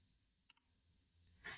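A quiet double mouse click, two quick taps close together, on the Next button while setting up Burp Suite, followed by faint rustling, no voices.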